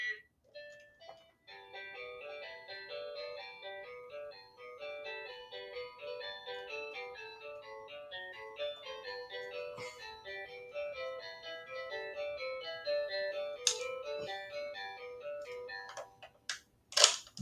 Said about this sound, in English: The Fun and Learn Phonics Bus version plays the song in G major this time and has guitar and electric bass playing it.